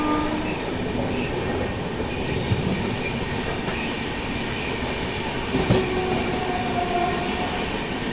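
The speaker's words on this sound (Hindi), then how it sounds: "और यहाँ पर किसी ट्रेन को ओवरटेक भी मारते हुए हम लोग आगे बढ़ रहे हैं" Inside the Delhi–Yeshwantpur AC Duronto Express running at speed, a steady rumble of wheels on rails fills the carriage, with faint rhythmic clatter and occasional squeals and knocks.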